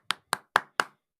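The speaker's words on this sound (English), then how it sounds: "We applaud." Four sharp claps in steady rhythm, close and fairly loud, each ringing out briefly before the next, with no voices over them.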